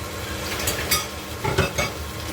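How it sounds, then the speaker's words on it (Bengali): Curry with coriander leaves being stirred in a pan, a soft sizzle under a few close scraping strokes of a spoon, the louder scrapes coming in short bursts near the middle, with no talking. "এবার আবার ধনে পাতাটা দিয়ে ভালো করে নাড়াচাড়া করতে হবে।"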